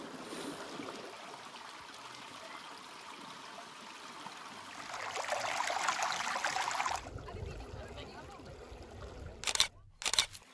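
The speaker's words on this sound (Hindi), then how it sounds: "ये पानी का आवाज़, वाह, नेचर के साथ बैठना कुछ अलग ही मज़ा है।" Stream water flows steadily through a sacred forest on the David Scott Trail in Meghalaya, a continuous broadband rush heard from nearby, with brief handling knocks near the end.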